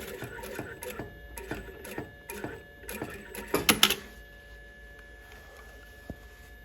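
A sewing machine fitted with a single-sided zipper foot stitches a console zipper seam in short, rhythmic bursts of clattering needle strokes, building to a busier run before falling to quieter room tone with one faint later tap.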